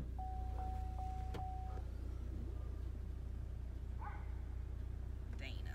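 A car drives along with a steady low engine rumble and road noise throughout, close and constant, with faint tonal beeps early on.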